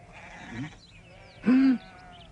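Sheep bleating nearby, a short faint call followed by a louder, wavering bleat, each standing alone against quiet background.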